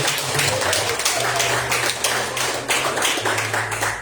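A church congregation claps in praise during an evangelical service, with steady dense clapping filling the room for the whole stretch and no voices standing out above it.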